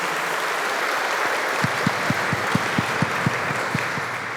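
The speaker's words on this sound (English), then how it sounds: "big clap again for all of our panel members" An audience claps for the panel members at an International Women's Day breakfast event, a dense steady wash of applause through the whole stretch, with a low regular thumping running under the second half.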